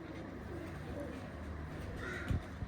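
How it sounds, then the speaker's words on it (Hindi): Rampur pigeons coo softly at close range in a short, low murmur, partly buried under steady background hiss and faint room noise. "ये सारे रामपुर के कबूतर है ना, जी"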